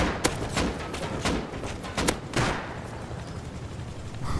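Gunfire in the Rust video game comes as a burst of sharp shots, several in the first half, then fades into a dull rumble with no talk over it.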